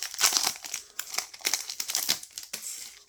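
A foil trading card booster pack is torn open and crinkled up close, bursts of crisp rustling and tearing repeating over about three seconds with no talking.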